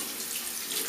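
Tap water runs steadily for hand washing into a sink, a continuous soft hiss and splash, fairly quiet and even, with no voices.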